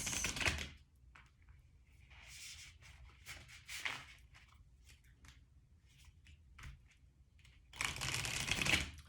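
A Moonology oracle card deck being shuffled and handled, with bursts of riffling card noise at the start and end and scattered soft taps and flicks of cards in between, close and quiet.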